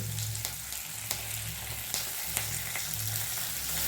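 Chopped onions and curry leaves sauté in hot oil for tomato upma, a steady sizzle with occasional soft clicks of stirring, heard close and alone.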